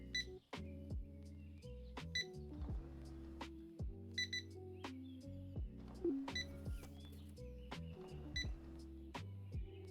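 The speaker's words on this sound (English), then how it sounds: "you have this constant beeping from behind us" Electronic beeps ring out constantly in a supermarket in the video game Megastore Simulator, with repeated checkout-style tones and chimes overlapping at a moderate level, with no talking.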